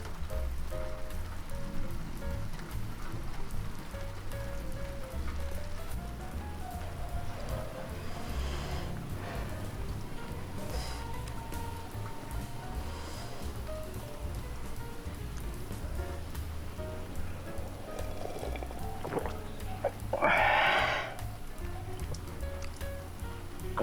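Steady rain from a typhoon pours down during a flood in Tondo, Manila, a dense, even hiss of drops on surfaces heard from indoors by a window, with a brief louder splash near the end.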